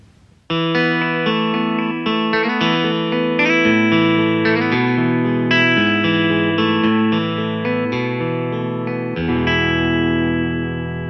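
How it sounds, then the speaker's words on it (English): A clean electric guitar voice on a Yamaha Tyros 5 arranger keyboard plays a melodic phrase of sustained notes and chords, bright and ringing with a touch of chorus, without any voices. "if I have, for example here, a clean guitar sound, it sounds like this"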